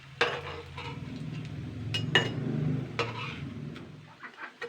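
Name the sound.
potato and flour snacks frying in refined oil, being flipped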